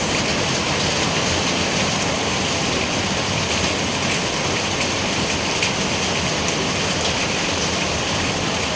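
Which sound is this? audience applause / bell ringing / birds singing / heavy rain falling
heavy rain falling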